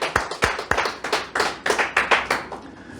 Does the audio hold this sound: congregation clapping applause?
yes